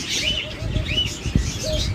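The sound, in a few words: doves cooing in a bird shop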